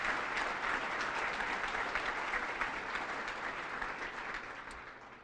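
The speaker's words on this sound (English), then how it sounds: "how about a round of applause for Chris and the over 400 volunteers who help us" An indoor audience at a YMCA President's Awards event claps in dense, sustained applause that fades gradually toward the end.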